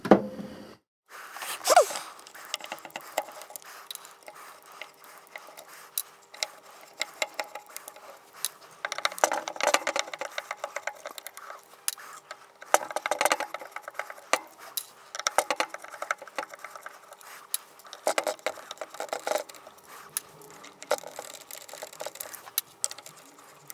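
Screws come out of an old bass guitar pickguard with quiet, close, intermittent clicking, ticking and scraping, arriving in irregular bursts with short pauses between.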